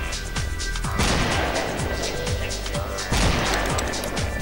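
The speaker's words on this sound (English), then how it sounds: "And we have a new gun. Sniper rifle. Very slow rate of fire." Repeated sniper rifle shots in the video game Deadhunt, a series of heavy booming reports about every half second over a constant rumbling din, loud and close.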